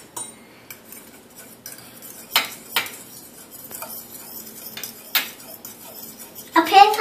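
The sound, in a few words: child stirring eggs in a bowl with a fork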